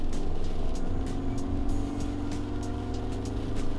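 A Suzuki Jimny engine labours hard under acceleration up a bank at about 40 mph and 2,500 RPM, a loud, steady, low droning rumble heard from inside the vehicle with no talk over it.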